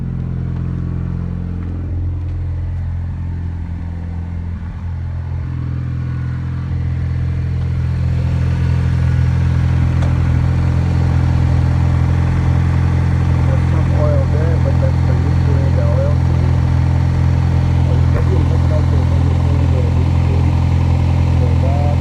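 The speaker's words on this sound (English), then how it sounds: "I'll start the motor one more time just to make sure that the oil light goes out" A 2010 Honda Civic engine runs after an oil change, a steady low idle hum that grows louder and fuller partway through, then settles into an even, continuous drone.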